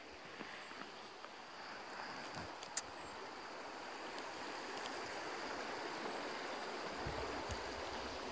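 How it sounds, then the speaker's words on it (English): A river flows through Glenbower Wood near Killeagh, County Cork, Ireland, as a steady, broad rushing wash of moving water, fairly distant and unbroken, with no voices. "And there's the river."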